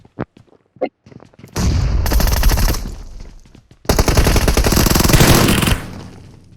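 Gunfire in PUBG Mobile: a few isolated shots lead into two long, loud, close bursts of rapid automatic fire, separated by a brief pause.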